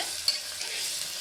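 Ginger garlic paste fries over fried onions in a pan, a bright steady sizzle with a spoon scraping and stirring in brief strokes, close up and alone.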